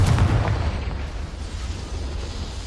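A fiery Confringo blasting spell bursts in Hogwarts Legacy, a loud boom at the start that decays into a rumbling tail of crackling debris and low roar, with no voices.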